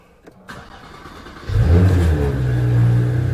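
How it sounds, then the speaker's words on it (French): A Porsche Panamera engine starts with a short crank, then settles into a loud, deep rumbling rev that stays up close and steady. "Tu vas voir, elle fait un petit bruit sympa cette Panamera."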